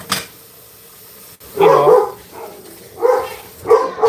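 Dogs bark indoors in three short bursts of barking separated by brief pauses, fairly loud and close, with no talking.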